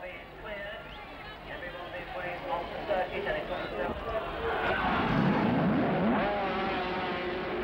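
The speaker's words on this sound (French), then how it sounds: "Lorsque le départ est donné, Kenny le rate, laissant le jeune prétendant" Grand Prix motorcycles leave the start at the Nürburgring, their engines a rising, layered roar that swells and grows louder toward the end, with a commentator talking over it.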